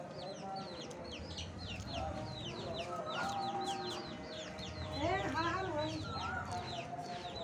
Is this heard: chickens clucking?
yes